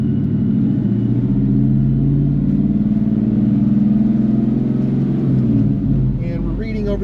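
A car with a Ford Coyote V8 and MT82 six-speed manual is driven at low speed, giving a steady, loud, close engine drone inside the cabin; a voice speaks near the end.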